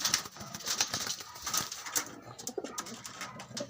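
Pigeons cooing inside a small loft, several soft repeated coos close by with occasional chirps and a brief wing flutter, over a low ambient murmur.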